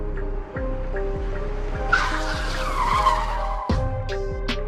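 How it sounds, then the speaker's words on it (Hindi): A cartoon car brakes suddenly and its tires skid with a drawn-out squeal, sharp and near, over the engine's rhythmic chugging and a few squeaky effects. "तुमने गाड़ी को अचानक से क्यों रोक दिया है"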